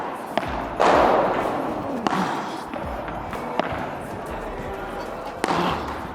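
Hard thuds of a basketball bouncing and hitting, spaced irregularly over a noisy gym-like background with voices talking.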